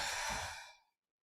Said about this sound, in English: Breathing out, opening up.